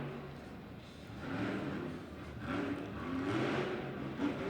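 The Terminal Velocity monster truck's engine revs in surging throttle bursts inside a Greensboro, NC arena during a Monster Jam event, a rough roar rising and falling in waves over crowd and arena noise.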